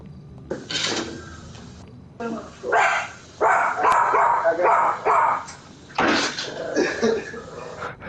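A pet dog barks in short bursts indoors over a streamed GTA game, loud and close, with a person talking and scolding the dog between and over the barks.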